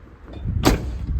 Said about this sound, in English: G-body door shuts.